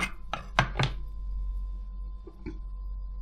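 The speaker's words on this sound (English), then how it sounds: "That is the super new way how to cut onions very quickly, very, very simply" A knife chopping onions on a board, four quick close thunks in a fast run, then a pause and two softer cuts, with no talking.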